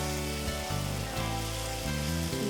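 Chicken with Guntur chillies frying in a pan, a continuous close sizzle and crackle under a steady background tone, with no one speaking.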